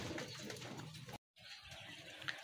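Racing pigeons coo in soft, repeated throaty bursts close by during a race in Carmona, Cavite, with a brief silent gap midway before the cooing resumes.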